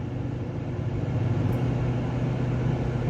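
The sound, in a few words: loud truck passing by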